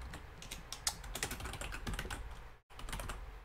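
Someone types on a computer keyboard in quick, uneven bursts of close clicking. There is a brief silent gap near the end before the typing resumes.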